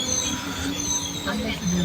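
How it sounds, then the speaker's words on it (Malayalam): A passenger train near Hanumanahalli in Karnataka runs at high speed, heard from onboard as a loud continuous rumble of wheels on rails with squealing tones and faint rhythmic clatter. "നമ്മുടെ ട്രെയിൻ നല്ല അതിവേഗത്തിൽ ഇങ്ങനെ കുതിച്ചു പാഞ്ഞുകൊണ്ടിരിക്കുകയാണ് കേട്ടോ"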